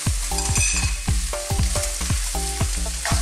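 Vegetables including baby corn, capsicum, cabbage and bok choy are stir-fried in a wok, loud constant sizzling punctuated by regular rhythmic scrapes and clanks of the spatula, close and with no talking.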